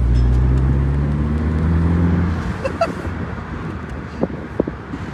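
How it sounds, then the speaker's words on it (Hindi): A 2023 Mini Cooper S Convertible accelerates in sport mode. A loud, steady engine drone lasts about two seconds, then fades into wind and road noise with a few sharp knocks. "क्योंकि स्पोर्ट मोड में जब चलाते हो गाड़ी बहुत तेज भागता है गाइस।"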